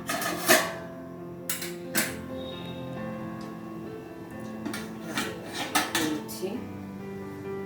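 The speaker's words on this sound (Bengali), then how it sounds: "ঢাকা দিয়ে দিলাম।" A metal lid set onto a pot of simmering sambar dal: a few sharp metallic clanks and rattles close by, separated by quieter gaps, with a softer clatter near the end.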